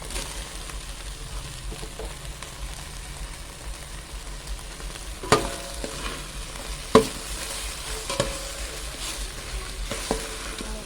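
Sliced hotdogs fry in a thin pot with a soft continuous sizzle, punctuated by a few louder clanks and scrapes of stirring, no voices.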